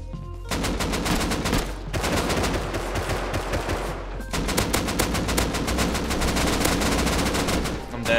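Rapid automatic gunfire in the survival game Rust rattles in dense, loud bursts, broken by two short pauses before the shooting resumes and runs on.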